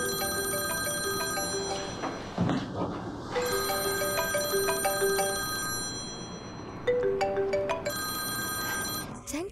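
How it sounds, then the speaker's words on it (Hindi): An incoming-call phone ringtone plays as a repeating electronic melody of bright tones, close and clear, in a Chinese drama scene, with brief background sounds and no speech over it. "हाँ विनरंग, वैसे तुमने मुझे बहुत ही गलत वक्त पर फोन किया है।"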